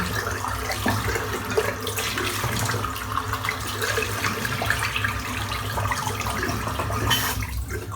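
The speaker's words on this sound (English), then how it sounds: "Rinsing the soap out now, so I can let it dry." Tap water runs steadily while shaving soap is rinsed under it, a close, continuous splashing rush that stays level throughout with slight shifts as the water hits the soap.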